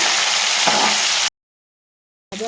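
Katla fish pieces fry in a pan, making a steady, loud, close sizzle that cuts out abruptly into silence and then briefly resumes.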